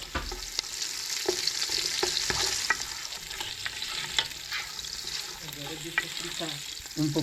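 Flour and spices stirred and roasted in a pot for a Brazilian herb soup, a steady dry sizzle with scraping spoon strokes against the pot, close and continuous.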